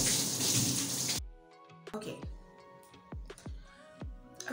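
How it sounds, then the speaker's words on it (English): Water splashes and drips during a nighttime skincare routine as face cleanser is rinsed off by hand, starting with a short loud gush and then scattered close splashes and trickles over a quiet background. "After which I'm just gonna wash it all off with water."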